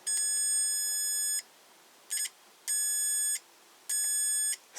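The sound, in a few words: multimeter continuity-test beep when two contacts are shorted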